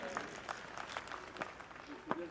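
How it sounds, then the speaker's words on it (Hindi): Faint, scattered clapping from an audience at a military passing-out parade, with one brief louder burst near the end, heard at a distance. "इनके लिए भी तालियां बजा दीजिए"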